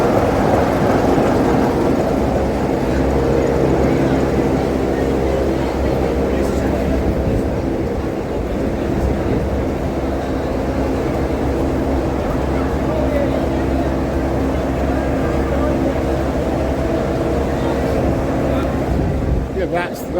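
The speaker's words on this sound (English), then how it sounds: "that's the diesel engine" A diesel locomotive at the West Somerset Railway on a busy mixed traction day, a loud, steady low engine rumble and drone that continues without a break from start to finish.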